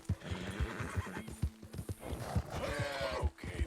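Horse in the Western video game Red Dead Redemption, galloping hoofbeats in a steady clip-clop rhythm with a loud whinnying neigh partway through, close and clear over game ambience.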